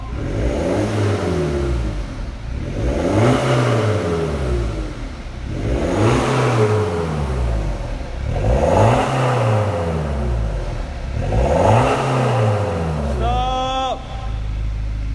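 A BMW 120d diesel car engine revs repeatedly in rising and falling surges, loud and close, with a deep exhaust rumble; a short whine near the end.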